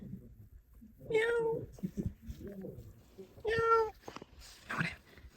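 A cat meows twice, loud and close, with clear drawn-out calls about two seconds apart, while people speak softly around and between the meows.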